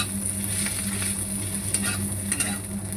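Fried pointed gourd peels sizzle in a pan with melting jaggery, a steady close crackle broken by a few stirring scrapes.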